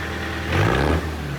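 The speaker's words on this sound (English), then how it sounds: "it was time to rev up that engine and make sure it was all running smoothly" A car engine revs once after a chassis swap, swelling to a brief, louder rise before settling back to a steady idle, with no talking.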